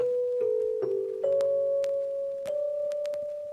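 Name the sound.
mallet instrument sample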